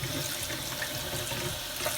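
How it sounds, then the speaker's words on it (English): Warm tap water rinses conditioner out of crimped hair, a steady close splashing rush that stays even and unbroken the whole time. "I'm just going to wash out the conditioner using some warm water"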